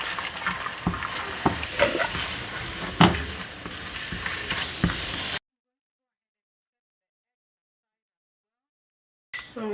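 Eggs sizzling and being scrambled in a teaspoon of coconut oil in a pot, a steady frying crackle with occasional scraping stirs, close, breaking into silence partway through.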